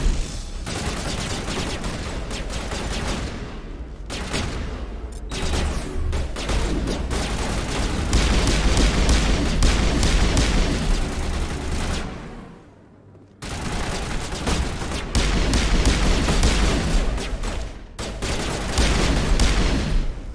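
Gunfire in the video game Mass Effect, with dense bursts of rapid shots and booming impacts rolling almost nonstop, loud and close, broken by a few brief pauses.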